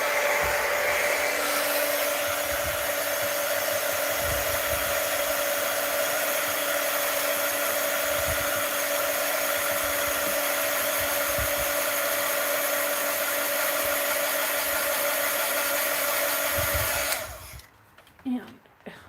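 Hair dryer blowing on a mixed-media art journal page, a loud steady whooshing drone held for about seventeen seconds before cutting off, followed by faint handling noises.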